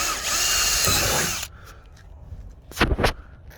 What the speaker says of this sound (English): Now I'm going to drill me a starter hole so I can cut them with a jigsaw.